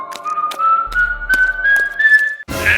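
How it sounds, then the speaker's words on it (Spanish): Eerie whistling of the legendary El Silbón, a single sustained whistled note slowly rising in pitch, punctuated by sharp taps and a low hum, ending in a brief burst of noise. "se le escuchaba silbar las notas."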